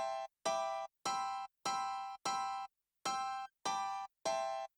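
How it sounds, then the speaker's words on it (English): Bright, thin, high-pitched layer from Ableton's stock grand piano preset with EQ and compression: eight short, evenly spaced staccato chord stabs separated by silence, alone and fairly quiet. "I drag in Ableton's stock grand piano preset"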